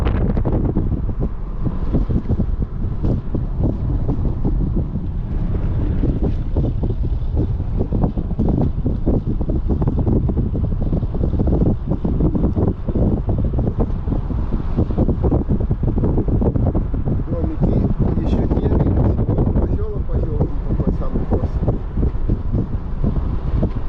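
Hot wind rushing into an open car driving slowly along a rural road in a German colony in Entre Ríos, Argentina, a steady loud buffeting roar lasting throughout with no talk.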